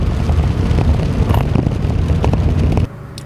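Steady low rumbling road noise inside a Subaru BRZ sports coupe while driving, a continuous broadband roar dominated by low frequencies that cuts off abruptly near the end.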